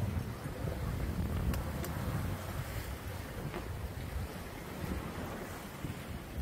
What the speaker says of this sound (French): avec des bonnes rafales et puis donc un peu de houle